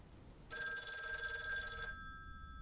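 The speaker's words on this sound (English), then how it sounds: "we're going to start the evening with a phone call" A telephone rings in the video game Lake, a steady bright electronic trill lasting about a second and a half, clear and alone against a quiet background.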